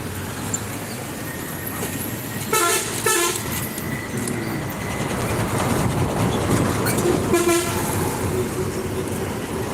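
A train horn sounds in two bursts over a constant rumble of rolling rail cars, loud and fairly close, with no talking.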